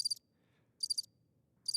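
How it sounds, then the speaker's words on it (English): Recorded cricket chirps come in short, high trills roughly every 0.8 seconds, fairly faint over a low background hum, with no voices. "Could you put crickets on for me?"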